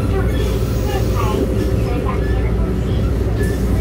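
Red Zebra EMU1200 Tze-Chiang express train 167, a nine-car set, rumbles along steadily with a close, loud rolling drone and faint squeals and hums above it, while someone talks over the noise.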